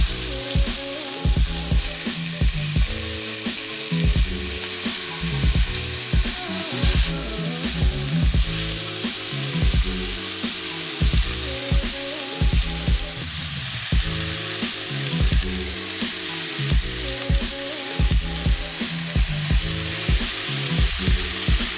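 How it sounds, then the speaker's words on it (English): Pork ribs sear in a hot pan with a cinnamon stick and dried chilli, giving a steady, close sizzle for the whole stretch, with low tonal sounds pulsing underneath. "One by one, gently place the ribs into the pan."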